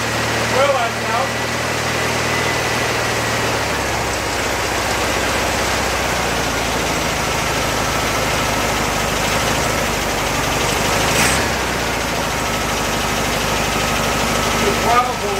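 A salvaged, trash-picked VW Beetle engine runs loud and close with a continuous rough idle, its throttle hunting and surging unevenly over the steady drone.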